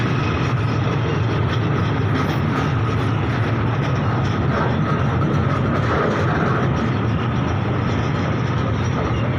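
A Thai freight train rumbles steadily past close by at a station, a continuous loud roar of rolling wagons with faint rhythmic wheel clatter throughout, no voices.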